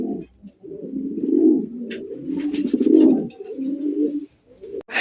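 A caged pigeon coos close by in a low, throaty rhythm of repeated rolling calls, with brief pauses between phrases.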